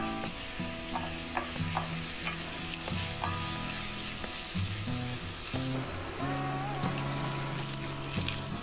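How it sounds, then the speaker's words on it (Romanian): Onions simmer in a little water in a pan for a Romanian mushroom stew, a soft steady sizzle broken by repeated spoon scrapes and stirring knocks, close and moderately quiet. "Adăugăm 50 de mililitri de apă și lăsăm să fiarbă până se înmoaie ceapa"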